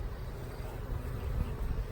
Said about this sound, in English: There's a load of bees in here.